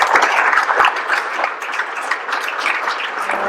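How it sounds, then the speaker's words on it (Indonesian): A studio audience on an Indonesian variety talk show applauds a guest, with continuous lively clapping at a steady, fairly loud level from start to finish. "Beri tepuk tangan yang meriah."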